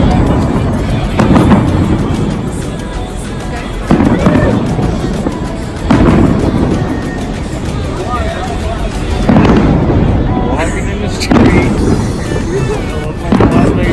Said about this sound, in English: Everybody's like, stop just to watch the fireworks.